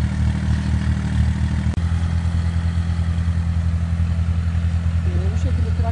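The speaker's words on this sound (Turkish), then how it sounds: "Bu şekilde traktör tesviye küreğiyle" Tractor fitted with a leveling blade reshaping eroded planting ridges in a walnut orchard, a loud, steady low diesel drone with a brief dip partway through, running continuously close by.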